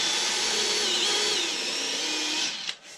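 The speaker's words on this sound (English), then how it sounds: "So you got to drill exactly." A power drill bores into wood with a steady, loud whine that holds for over two seconds, then winds down and stops abruptly.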